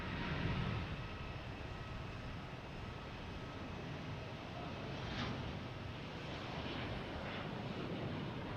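Delta Airbus A330-900 airliner at Boston Logan Airport, a steady broadband jet engine roar filling the scene, moderately distant and continuous, with no talk over it.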